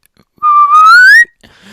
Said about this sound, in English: Your whistle sounds like a pan flute.